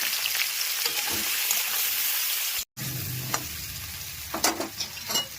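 Prawns frying in a pan for a curry of small prawns and yam, a loud continuous sizzle close by, with a brief dropout midway and some stirring clatter afterward.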